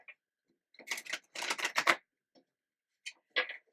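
Tarot cards are shuffled on a table in short, crisp bursts of riffling and snapping, with pauses between groups, close and clear, with no talk.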